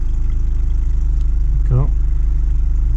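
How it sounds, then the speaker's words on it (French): A 2019 Volkswagen Golf R with 300 horsepower idles in race mode, its exhaust giving a steady low, even drone throughout, with a brief voice cutting in near the middle. "D'ailleurs l'échappement, j'ai l'impression qu'il change"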